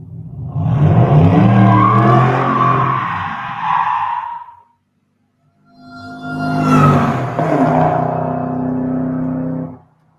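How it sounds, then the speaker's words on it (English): A supercharged Ford Mustang passes twice, each pass swelling from a distance to a loud roar and fading, with supercharger whine on the approach and a short silent gap between passes. "you can hear the supercharger as the car's coming towards you, but then you can't really hear it as it goes away"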